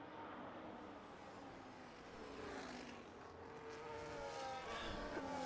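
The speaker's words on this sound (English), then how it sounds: "Sabakendo pulling away in the Mercedes F1 car." Mercedes F1 car pulling away in a racing game, a faint high-pitched engine whine rising and sweeping upward as it accelerates, layered with other distant car sounds and no talk.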